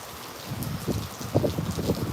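Gusty wind and rain during a tropical storm in the Tampa Bay area, with a broad rushing roar that swells in several stronger gusts over steady rainfall.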